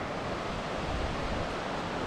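Steady broadband rush of a river flowing below a hiking trail at Mount Rainier National Park, a continuous even wash of water without pauses or talk.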